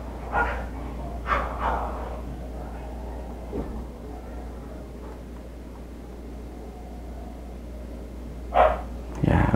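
Dogs bark in short bursts at a few moments, faint and somewhat distant, over a steady low background hum.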